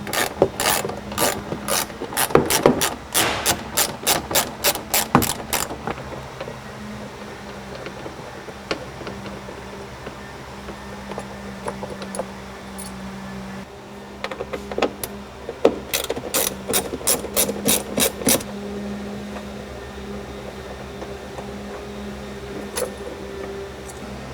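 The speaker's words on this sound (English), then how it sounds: "now we're just going to remove the Torx bolts from the rear plastic trim in the back of the vehicle" Ratchet backing Torx bolts out of rear plastic trim inside a Jeep Wrangler JKU Rubicon, heard as loud, rapid bursts of close pawl clicking that pause for quiet shuffling, then start again.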